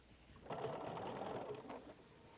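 A sewing machine stitches black and white quilt pieces, starting up after a brief quiet and running in a short steady whir of rapid needle strokes for about a second and a half before stopping, close and soft.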